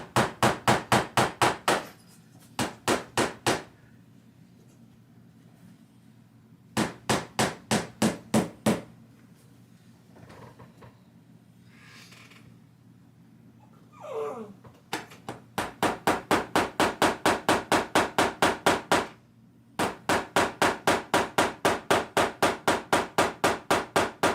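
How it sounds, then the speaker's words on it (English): A hammer drives nails through tape into drywall in fast, even runs of sharp, close, loud blows, each run about a dozen strikes long and separated by short pauses that carry a few faint handling noises. "Then you can just pound the nails right into those little marks"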